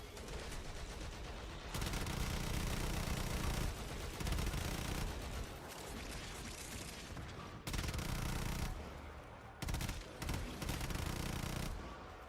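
Rapid automatic gunfire in Warframe against low-level enemies, sustained loud bursts separated by short pauses, with no talking over it.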